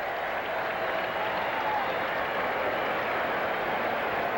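Home crowd applauding at a 1984 Mets baseball game against the Reds in New York, a steady, dense wash of clapping and cheering that fills the whole stretch without a break.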